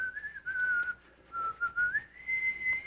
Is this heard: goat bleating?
no